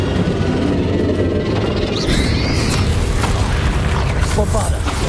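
In Hogwarts Legacy, a fiery Confringo spell blast erupts as a loud, dense rumbling boom, followed by crackling magical effects and a continuous layer of combat noise.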